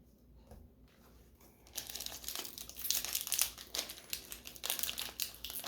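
A foil trading card booster pack is ripped open after a quiet moment, giving loud, close crinkling and tearing that carries on in uneven bursts to the end.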